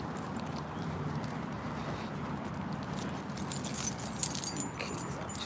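Keys jangle in a hand during an outdoor walk, a faint, scattered metallic jingle over steady background hum that grows busier and louder toward the end.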